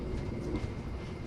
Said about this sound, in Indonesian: Jadi itulah kalau naik kereta